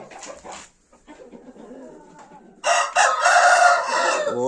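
A rooster crows loudly and close by, a long ragged call filling the second half, preceded by softer clucking and rustling.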